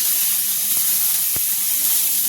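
Steady frying hiss of onion sizzling in hot oil with cumin, with a couple of faint clicks in the middle.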